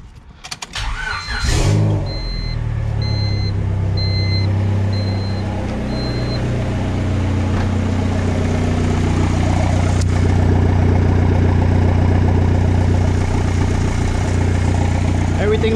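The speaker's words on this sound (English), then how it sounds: "I'm gonna turn the car back on." A 500 hp boosted Honda Civic build cranks and fires up, then settles into a steady, loud idle that drones on close by for over ten seconds, with a brief rev flare at startup.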